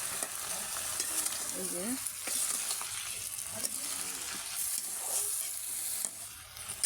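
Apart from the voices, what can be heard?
fish and cauliflower being stirred and sautéed in a pan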